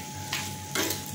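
Onions and green chilies sauté in a pan for a Kerala-style onion curry, a quiet sizzle with two short bursts of spoon-scraping stirring.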